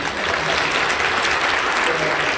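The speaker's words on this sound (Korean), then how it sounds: "박수입니다" Congregation applause at a Friday night Christmas worship service in a Korean church, a dense, steady burst of clapping from many people in a reverberant hall, without a break.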